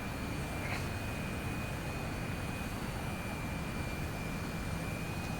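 A steady, loud aircraft engine drone holds unbroken through the whole stretch as the plane flies its landing approach with the gear down, with a constant high whine over a broad low rumble.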